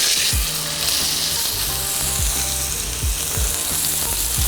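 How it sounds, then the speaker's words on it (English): New York strip steak sizzles loudly in a hot pan with canola oil, a steady dense frying hiss with repeated low thumps and clatters of the pan throughout, no voices. "Add some canola oil to the pan. Add my steak to the pan."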